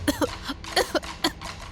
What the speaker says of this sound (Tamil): ஏன் திடீர்னு இருமுற?